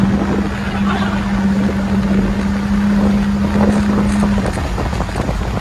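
Truck engine running steadily during a jungle tour, a loud continuous drone with a steady hum, mixed with wind noise across the microphone.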